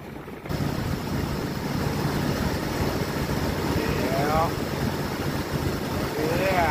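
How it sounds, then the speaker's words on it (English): A 1997–2001 Jeep Cherokee XJ engine idles during a cooling system flush after a water pump replacement, a steady low rumbling hum held at an even level throughout, with people talking briefly over it. "start the engine and let it idle until the thermostat opens up"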